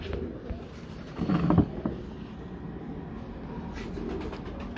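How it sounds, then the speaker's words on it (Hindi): Breeder pigeons at a home loft give a short burst of cooing near the middle, over steady low ambient hum and faint rustling. "ये मियाँ साहब के घर के कबूतर है"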